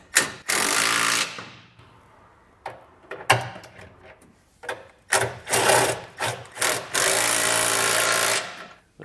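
Mounting bolts being snugged down with a wrench on a 2022 Chevrolet Silverado 3500 while installing tie-down hardware: bursts of loud rapid mechanical rattling, like a power ratchet or impact driver, in repeated short runs with brief pauses between them.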